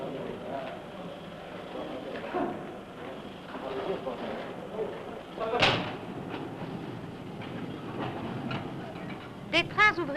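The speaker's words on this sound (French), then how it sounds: "Des trains ouvriers sont formés à la recette du fond et emmènent le personnel jusqu'au chantier d'abattage." A mine workers' train rolls along rails underground in an iron mine in Lorraine, with a rumbling, rattling clatter and occasional metallic clanks and squeals, with a voice talking over it.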